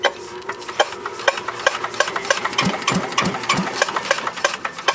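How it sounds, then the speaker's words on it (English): A small motor whirs and chugs in a quick, uneven rhythm as it turns over an antique Yanmar diesel engine, with sharper knocks partway through. "We're using a little motor here to turn it."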